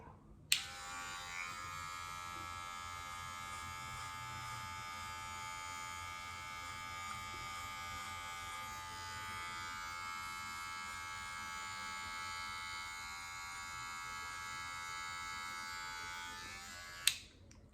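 Electric hair clippers run during a self-cut high taper haircut, a close, steady buzz switching on abruptly and holding evenly for about seventeen seconds before cutting off, with no talking.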